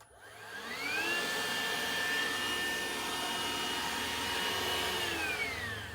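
A Hoover Evolve Pet cordless vacuum cleaner whines steadily on a hard floor, its motor pitch rising as it spins up and easing off near the end, loud and close with no talk.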